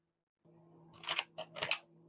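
Quick riffling and snapping of tarot cards being shuffled in two or three short bursts over a low steady hum, close and fairly quiet.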